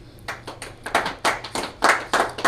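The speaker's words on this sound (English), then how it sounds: "Give yourselves a round of applause." A small group gives a round of applause at the close of a 2016 team project presentation: distinct, uneven hand claps in loose bursts that swell and fade, fairly close, with no talking.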